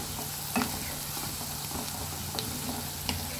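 Onions frying in oil until light brown, a moderate crackling sizzle with intermittent stirring scrapes and small pops, fairly close and without talk.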